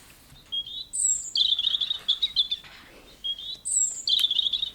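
A blackbird chirps and whistles close by in quiet surroundings, repeated bright phrases in short bursts with brief pauses between them.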